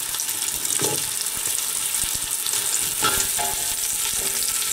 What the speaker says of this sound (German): es fängt also schon an zu brutzeln hier